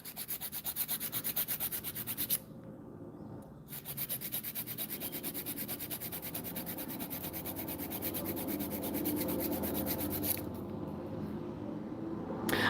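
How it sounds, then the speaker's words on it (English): Rapid rhythmic rasping of a file scraping back and forth on the free edge of an acrylic pinky nail, close and steady, with a couple of brief pauses. "It gets harder and harder to file that free edge"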